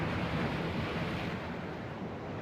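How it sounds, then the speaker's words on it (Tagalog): Strong ocean waves surge onto a beach at night, a steady loud broadband roar of surf with wind rumbling against the microphone, no voices. "sobrang lakas talaga ng alon kasi sa tabing dagat to guys yung Lola Marias"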